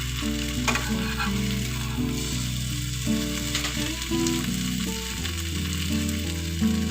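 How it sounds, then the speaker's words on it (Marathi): Leftover chapati pieces and vegetables frying in a hot pan until crisp, a steady close sizzle with soft stirring and turning noises running throughout, no voices. "अशी पलटून पलटून अशी छान अशी क्रिस्पी होईपर्यंत हे करून घ्यायचं"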